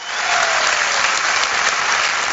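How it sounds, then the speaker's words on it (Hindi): A large crowd at a Safe Shop recognition event erupts in loud, dense applause for a speaker praising people from Agra, a continuous roar of clapping that swells quickly and stays strong. "एक आगरा वाली जोरदार तालियां दोस्तों आगरा वालों के लिए।"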